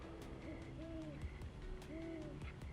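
An owl hoots at night in an animated children's story, repeated rising tonal hoots arriving in two clear groups over a steady low background, fairly close and moderately soft.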